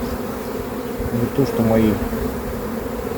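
Honeybees from a caught swarm buzz steadily at an opened hive frame, a close, dense hum that swells in the middle, with a voice speaking briefly over it.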